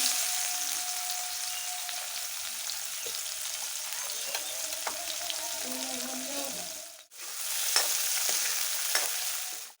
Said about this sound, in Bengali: এবার কড়াইয়ের ভিতরে পেঁয়াজ কুচিগুলো দিয়ে দিচ্ছি